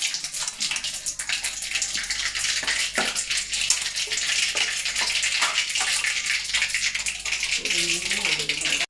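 Mustard seeds sputtering and popping in hot oil as jackfruit seed curry is started, a dense, steady crackle with sharp pops throughout, faint voice in the background.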